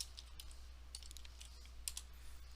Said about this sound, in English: Type in a second number.